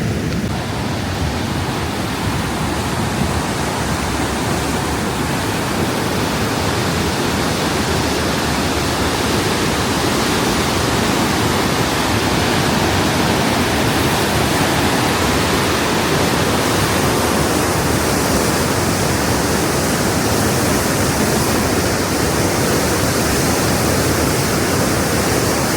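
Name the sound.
strong rushing water current at waterfall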